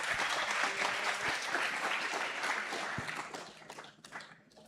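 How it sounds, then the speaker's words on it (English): An audience at a livestreamed talk event breaks into sustained, dense applause, loud and full at first and thinning toward the end with scattered claps. "So please give a huge round of applause to Dan Gorelick."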